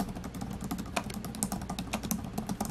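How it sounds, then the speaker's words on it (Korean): Rapid, steady typing on a Microsoft Surface Pro X keyboard cover, close and fairly quiet, with light clicky keystrokes tumbling over one another and no voices. "타이핑하는 소리는 이 정도로 보시면 될 것 같습니다."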